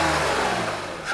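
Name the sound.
Toyota Sienna engine revving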